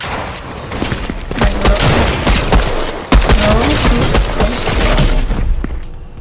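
Rapid bursts of gunfire from a slow-firing gun in Fortnite ring out over a busy game soundscape, with sharp shots scattered through the stretch and a heavy thump about halfway.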